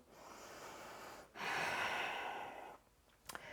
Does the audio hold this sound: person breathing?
yes